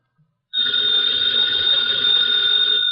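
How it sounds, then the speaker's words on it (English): A telephone bell rings in an old-time radio drama, a loud, continuous electric trill starting abruptly after a moment of silence and sustained steadily to the end. "that phone bell means adventure"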